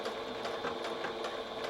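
Close, steady sewing machine stitching straight across the top of a fabric Norse hood, a continuous fast mechanical chatter with no pauses or voices.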